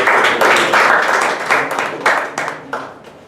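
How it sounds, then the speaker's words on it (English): A room of people at a Toastmasters meeting claps, with a burst of fairly close applause that swells, then breaks into scattered, separate claps that fade out toward the end. "Give a big round of applause."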